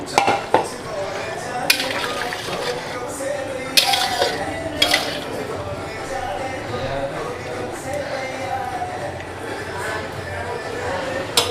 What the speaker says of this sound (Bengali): এবার আমি মাছগুলো দিয়ে দেবো, মাছটা দিয়ে একটু ফোটাবো।